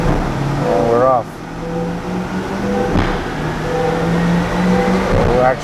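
A C8 Corvette engine holds steady revs on a dyno in fourth gear in manual mode, a sustained loud drone with a rising whine, with a voice speaking over it.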